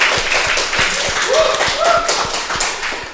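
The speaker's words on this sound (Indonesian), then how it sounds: "Tepuk tangan untuk beliau." An audience claps in scattered, moderately loud applause during an introduction at a government event, with faint voices mixed in and a short tone rising partway through.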